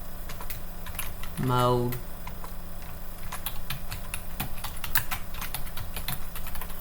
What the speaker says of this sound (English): I'm going to go up here and I'll type mean, median,